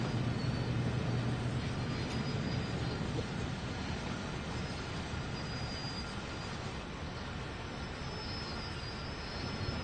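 A train rumbles past in the Train Sim World 3 game on the Cajon route, a steady, moderately loud roar of engine and rolling wagons with no talking.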